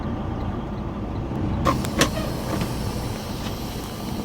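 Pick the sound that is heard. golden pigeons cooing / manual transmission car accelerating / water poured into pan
manual transmission car accelerating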